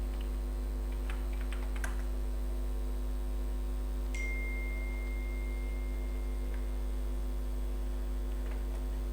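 Someone types a command and password on a computer keyboard in a Linux terminal. Sparse, faint key clicks come in small clusters over a low, constant electrical hum, and there is no talking.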